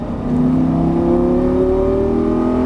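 A Lamborghini Gallardo revs hard under throttle on a race track, its engine note climbing steadily and loud throughout with a strong, continuous tone and no talk.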